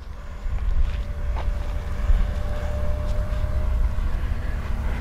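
A Banana Hobby MiG-17 RC jet with a 90mm electric ducted fan flies at full throttle with a steady, loud, rushing whine that stays constant throughout.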